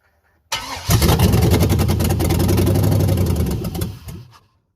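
An LS-swapped engine in an OBS truck, running without a radiator and fed only parts cleaner instead of fuel, cranks loudly and rhythmically for about three and a half seconds, then winds down without catching.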